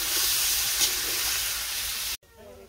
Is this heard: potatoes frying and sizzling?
yes